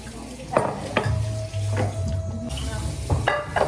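A pan is handled in a kitchen during a baking challenge, with several close, hollow metallic knocks and clatters over a low rumbling background.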